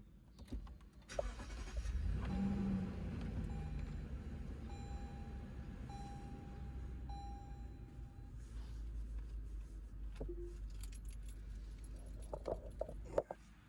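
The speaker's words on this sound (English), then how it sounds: "Now, I'm going to start the car." A Lexus GX460 being started, the engine cranking and catching after about a second, then settling into a steady low idle with a faint tone over it and a few clicks near the end, heard from nearby.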